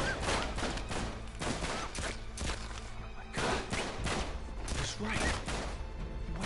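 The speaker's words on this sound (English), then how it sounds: "People shooting." Dense gunfire in Uncharted 3 during a firefight, with rapid repeated shots and impacts over a constant loud din of background battle noise.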